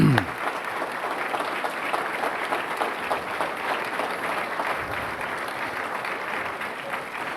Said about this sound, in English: Why don't you stand so we can give you a round of applause?